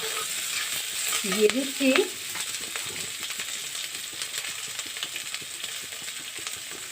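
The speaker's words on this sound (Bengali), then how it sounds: "এগুলোকে আমি ভালো করে ভেজে নেব।" Chopped onion and capsicum frying in a pan on a reduced gas flame for a restaurant-style chilli chicken: a steady, close sizzle with stirring scrapes throughout, and someone speaks briefly early on.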